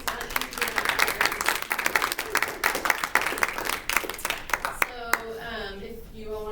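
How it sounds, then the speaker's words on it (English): A student-government debate audience gives the presidential and vice-presidential candidates a round of applause. The fairly quiet clapping has crisp individual hand claps standing out and fades near the end as a voice begins speaking. "let's give our candidates a round of applause"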